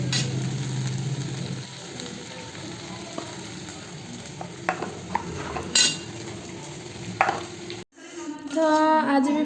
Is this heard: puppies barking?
no